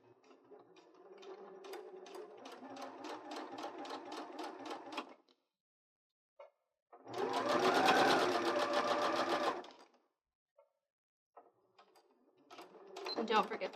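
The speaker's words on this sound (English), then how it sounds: "slide this under your sewing machine foot, and we're just going to stitch right along this fabric and secure it in place" A sewing machine stitching fabric and vinyl runs in close, rapid bursts of rhythmic mechanical clatter, separated by short silences and small clicks, and resuming at the end.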